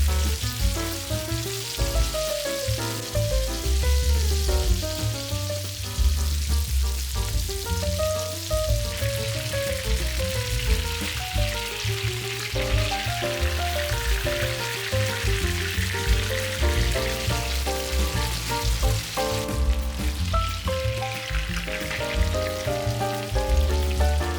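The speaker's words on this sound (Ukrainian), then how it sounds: "Смажимо на сильному вогні з двох сторін до приємної золотистої скоринки." Steady loud sizzling of chicken fillet frying over high heat in a hot pan, a dense crackling hiss running throughout with faint background music.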